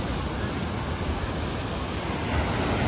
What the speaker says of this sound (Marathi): श्रीवर्धनचा बीच आहे हो.